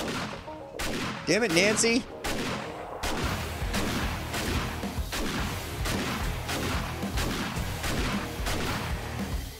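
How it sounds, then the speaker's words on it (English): An automatic shotgun in a video game fires repeatedly in a steady rhythm of heavy blasts over a busy combat din, with someone briefly speaking early on. "Say hello to the auto shotgun."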